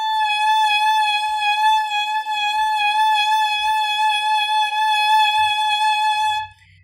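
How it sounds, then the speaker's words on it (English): A single sustained violin note with vibrato that gradually quickens, bright and close, holding for over six seconds alone with faint low bumps underneath before cutting off. "And then you can start speeding up a little bit when you feel comfortable."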